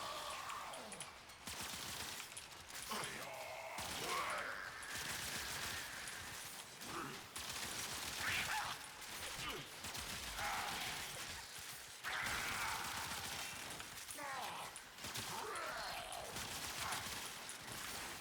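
Rapid bursts of Zakti Prime gunfire from the video game Warframe, fanned across a group of enemies, fill the mix as dense, sustained crackling shots and impacts with game effects and no pause.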